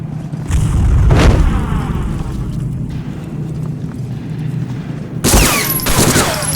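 Gunfire in the World War II shooter Medal of Honor: Frontline comes as two loud bursts, one early and one near the end, with a rumbling battle din between them.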